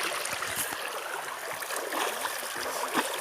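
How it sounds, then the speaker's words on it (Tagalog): Feet and legs being washed knee-deep in a flowing river near a waterfall, with steady close splashing and trickling water over a constant rushing stream. "Ito ang paghugas ng paa."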